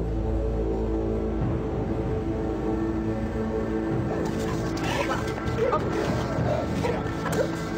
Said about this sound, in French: Des chiens de détection arrivent à Aylesbury pour y rechercher de la drogue ou des objets de contrebande.